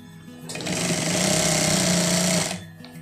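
A sewing machine stitching a flapped welt pocket on a suit jacket: one steady, loud whirring run of about two seconds, starting and stopping abruptly.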